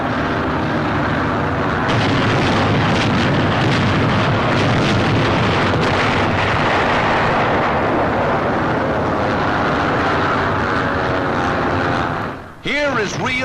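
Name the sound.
explosions from wartime aerial bombing during the D-Day invasion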